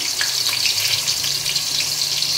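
Chicken frying in a pan with garlic, ginger and onion: a steady, close, bright sizzle with a dense crackle of popping oil throughout, and no talk.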